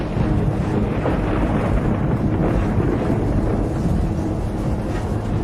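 Heavy thunderstorm noise around an airliner on approach to land in Colombia, a dense, loud, unbroken roar of wind and rumble with no voices.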